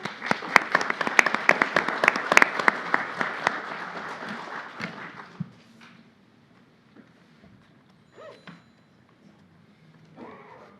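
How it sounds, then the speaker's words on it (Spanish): Audience applause at a criminal-justice seminar panel, a dense burst of clapping for about five seconds that quickly dies away, followed by near silence with a few faint knocks and shuffles. "Un aplauso, por favor."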